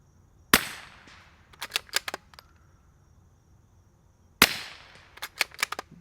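A rifle fitted with a Hansohn Brothers MOD F4 suppressor with four baffles fires twice, each sharp, fairly quiet report followed by a quick series of metallic pings from a steel target.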